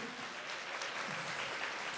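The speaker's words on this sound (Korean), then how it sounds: "다시 한번 박수." An audience at a year-end public broadcast concert applauds a punk band, a continuous, soft blur of clapping with a faint voice briefly underneath.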